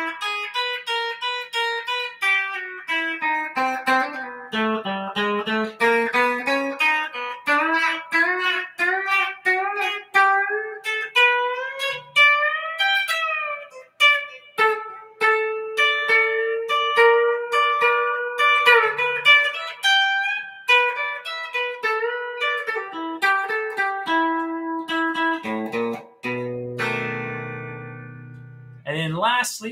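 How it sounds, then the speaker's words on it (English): Guitar plays the solo of a classic country instrumental at a slow pace, a clear run of single picked notes and bends with sustained ringing tones, alone and close without talk. "So one more time through the solo slowly."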